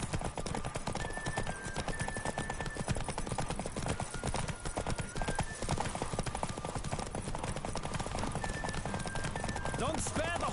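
A horse gallops in a steady, rapid clip-clop rhythm throughout a race in The Witcher 3 on PS5, with game sound and voices over the hoofbeats.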